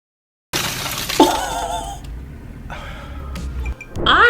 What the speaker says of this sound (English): one punch, goodbye glass window